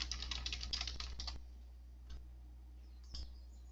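Quick bursts of key clicks on a computer keyboard, typed while working in database software, patter rapidly for about a second and a half, then two isolated taps follow in a quiet room.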